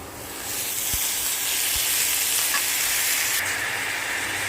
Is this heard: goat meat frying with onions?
yes